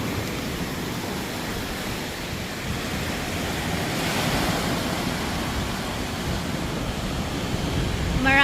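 Ocean waves at Maracas beach in Trinidad on a morning, a steady broad wash of surf with a rising swell near the middle, close and continuous with light wind, no voices.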